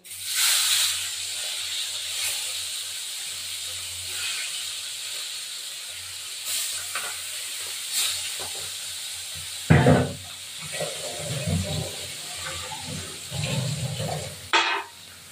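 Bata fish frying in hot oil in a pan, a steady hiss of sizzling broken by louder crackles and spits near the end, close and continuous with no talk.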